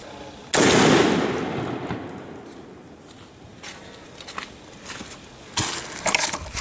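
A 12 gauge shell fires from a 10 gauge shotgun at a 30-yard range outdoors, giving one loud, sharp blast that decays quickly into a long rumble. Fainter thumps and rustles follow, with a louder burst of noise near the end.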